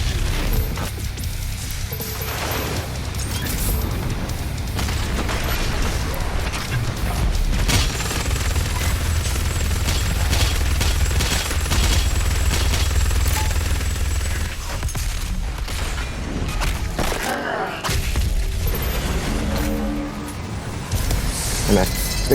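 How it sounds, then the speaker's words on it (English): The BFG weapon fires in a sci-fi shooter set on Mars, a long roaring blast of dense, sustained noise with booming rumble, mixed with game combat sounds while someone talks over it. "fire off the BFG."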